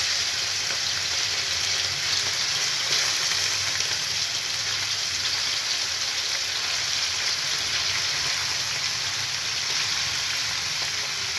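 Small pieces of chicken breast fry in a couple of spoons of oil in a pan, giving a loud, steady, continuous sizzle with no talking.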